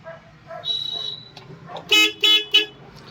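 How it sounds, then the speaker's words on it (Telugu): The Bluetooth horn of a 2018 Ashok Leyland Dost Plus small truck honks three times in quick succession, loud and close, after some brief talking and a short tonal chirp. "హారన్ ఓకే, బ్లూటూత్ హారన్ ఉంది."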